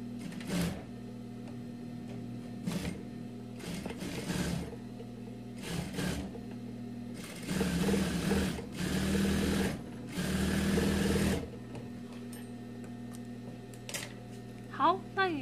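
A domestic sewing machine stitches a decorative center line on trouser fabric in several short bursts and longer runs of rapid whirring, separated by pauses with handling clicks, while someone talks at times.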